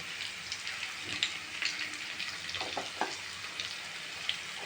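Onion with ginger-garlic paste sizzles in a pan for masale bhat, a soft, even frying hiss broken by a few faint taps and stirring scrapes.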